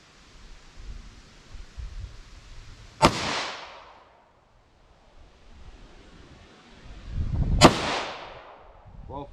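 Two sharp 9mm 124-grain +P pistol shots from a 5-inch M&P fired at about five yards, spaced roughly four and a half seconds apart, each a loud close crack followed by a short rumbling decay.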